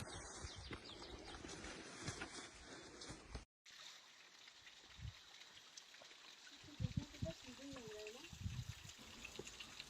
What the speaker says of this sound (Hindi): ये सामने सुंदर सा झरना देख रहे हैं, इस झरने का पानी पिया भी जा सकता है।